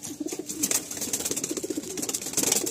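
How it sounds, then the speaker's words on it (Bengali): Pigeons at a loft sale in Garia, Kolkata give soft, continuous throaty cooing up close, with a low rolling pulse and a busy background of other birds. "আমি পায়রাটা আপনাদেরকে একবার দেখাই, এই দেখুন"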